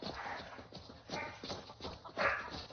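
Dogs playing in the video game Skyrim, with a steady run of soft, scuffling yips and pawing sounds at moderate distance, pulsing in short bursts over the whole stretch.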